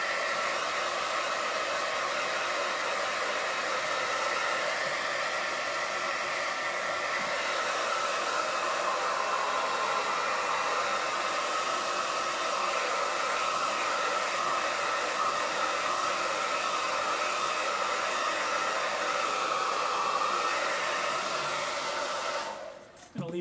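A hair dryer blows steadily on freshly made clay ceramic pieces indoors, a loud continuous whooshing hum that runs unbroken for over twenty seconds before cutting off abruptly at the end.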